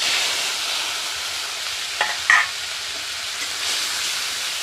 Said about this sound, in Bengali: পটলটাকে ভেজে নামিয়ে নিয়েছি, তেলের মধ্যে দিয়ে দেবো গোটা গরম মশলা, আদা বাটা, রসুন বাটা, পেঁয়াজ বাটা